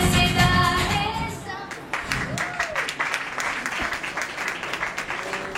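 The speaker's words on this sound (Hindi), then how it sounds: "जोरदार तालियां बच्चों के लिए हो जाए" Applause for a children's dance at a birthday celebration: dense clapping from a crowd that carries on steadily after music ends, fairly loud and close.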